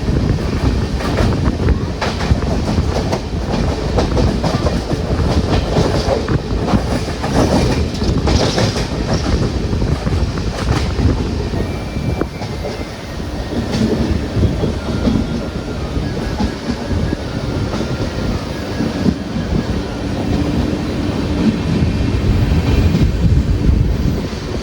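An Ernakulam–Velankanni Express made up of LHB coaches runs steadily for the whole stretch, with a continuous rolling rumble, a rhythmic clickety-clack of wheels over rail joints and some wind buffeting the microphone.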